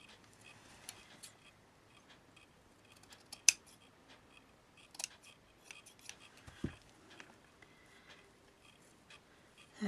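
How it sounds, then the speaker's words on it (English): Scissors snip through the bottom of a handmade craft medal, giving a few faint, sharp cuts spread over a quiet stretch with light handling noise around them. "now I'll just snip the bottom off"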